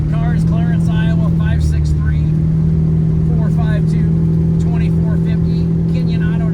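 A 1966 Ford Fairlane GTA with a 460 engine runs with a loud, steady low rumble that stays close and constant while someone talks over it.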